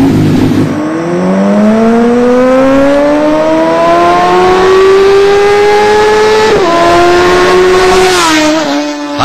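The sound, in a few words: biker gang's motorbikes revving and racing on Delhi streets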